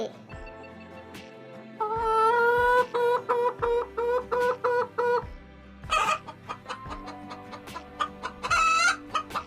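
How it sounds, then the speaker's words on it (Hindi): Hens cluck in a busy, repeated series of short calls, close and fairly loud, with a rooster-like crow rising partway through. "मुर्गी की आवाज सुन के आई"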